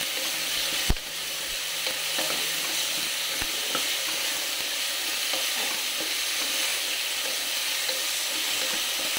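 A ginger, garlic, coriander and green chilli paste sizzles steadily in a hot pan for chicken pulao, with a single sharp clatter of stirring near the start and softer scrapes afterward under a continuous frying hiss.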